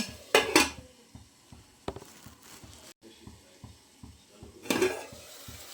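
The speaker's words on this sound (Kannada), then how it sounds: "ಸ್ವಲ್ಪ ಎಣ್ಣೆ ಬಿಡುವವರೆಗೂ ಸ್ವಲ್ಪ ಬೇಯಿಸ್ಕೋಬೇಕು ನಾವು" Chicken gravy masala fries in oil in a pan for a Malnad-style Diwali chicken curry, with soft sizzling under repeated scraping strokes of a spoon against the pan and a few louder clinks, close by.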